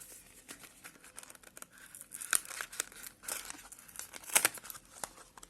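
A quality cardboard chocolate package is torn open by hand, giving a run of close, crisp tearing and crinkling bursts with the loudest rips near the end and no talk.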